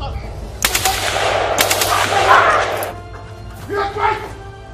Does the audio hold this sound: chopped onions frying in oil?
no